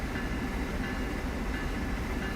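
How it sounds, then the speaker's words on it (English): A train rolls past on the opposing track in Train Sim World on Caltrain, giving a steady, loud, dense rumble with rail noise that continues without pause. "We've got the train at the opposing track"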